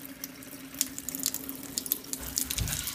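Water runs through household pipes after the shutoff valve of an automatic leak detection system is reopened, a steady close rush with small splashes and gurgles that build toward the end.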